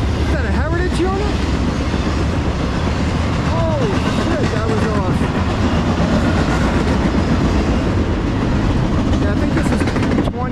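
A Norfolk Southern ES44AC heritage unit locomotive, number 8114, passes close with a loud, constant rumble and roar, wheels squealing at times, while a person shouts excitedly over it.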